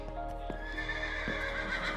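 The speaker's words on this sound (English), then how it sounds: "Your horse just got scared by something." Horse neighing and whinnying in a video game, loud and sustained across two seconds with faint hoof clip-clop beneath, no talk.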